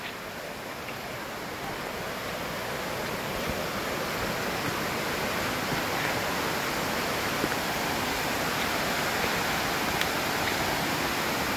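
Usgaon waterfall roars as a dense, even rush of falling water, close and constant for the whole stretch, with no voices standing out.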